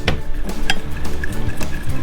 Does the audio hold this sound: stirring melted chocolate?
yes